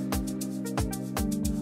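Bright bell-like synth plucks from Nexus, the UK Pikes Inside Plucked preset, over a sustained low tone in an amapiano remix, with a steady repeating kick pattern, loud and close with no talking.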